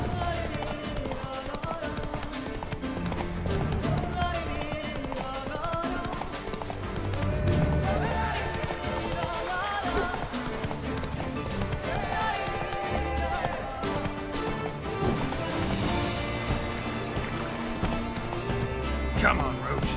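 Roach, a horse in Witcher 3, gallops with rapid, driving hoofbeats buried under a dense, continuous game soundtrack that plays loudly the whole time.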